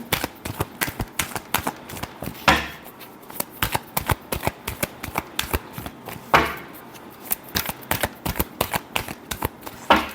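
Tarot cards are shuffled steadily at close range during a reading, producing a dense run of quick riffling flicks with two louder full-deck riffles partway through. No voices.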